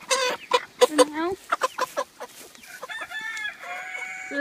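Chickens being caught from a chicken tractor on a processing day give loud, agitated clucks and squawks in irregular bursts, close to the microphone.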